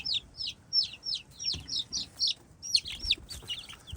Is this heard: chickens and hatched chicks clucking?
yes